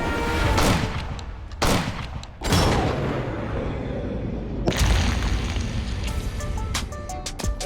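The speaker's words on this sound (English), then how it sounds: "I have waited half of my life to shoot a bouteille." Antique Bouteille firearm fired outdoors, producing several loud, sharp booming reports with broad crackling decay, spaced a second or two apart and then followed by steadier lower rumble.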